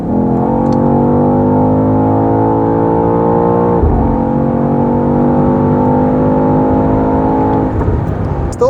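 Loud, close engine of a BMW XM G09 SUV in sport mode under hard throttle, climbing steadily in pitch, dropping briefly at a gear change, then rising again with a strong, sustained drone.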